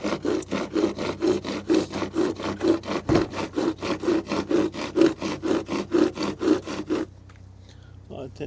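A hand saw cuts steadily through insulation bricks with rhythmic back-and-forth rasping strokes, close and loud, about three strokes per second, then stops near the end.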